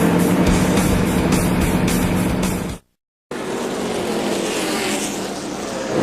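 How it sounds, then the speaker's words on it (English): NASCAR Winston Cup stock car engines cranked up and running at New Hampshire International Speedway before the New Hampshire 300, a loud, dense roar that cuts out abruptly for a moment, then resumes as a broader, steady rumble. "Behind its scheduled time for starting engines, but they're cranked up here at New Hampshire International Speedway."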